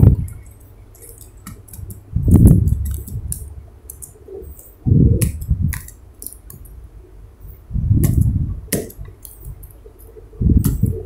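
Manual data entry on a computer keyboard during an Excel spreadsheet lesson: several short bursts of clicky key taps, close and moderately loud, separated by quieter pauses, with no talking.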